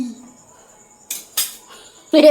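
A metal spatula clinks against pans while roti is being made at home, with a few sharp separate clatters over quiet moments and a louder clatter at the end.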